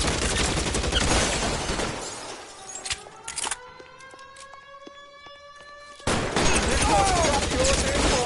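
Gunfight in L.A. Noire: bursts of loud, dense gunfire and shattering, then a quieter stretch with sustained tonal notes and a few sharp cracks, before heavy firing resumes.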